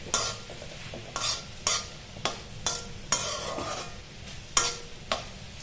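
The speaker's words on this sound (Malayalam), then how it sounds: "ഇളക്കി കൊടുക്കാം. ചെറിയൊരു കളർ വ്യത്യാസമൊക്കെ വന്നൊക്കെയുണ്ട്." Capsicum fries in a pan while a utensil stirs it, scraping in regular strokes about every half second to second over a continuous soft sizzle, close up with no talking.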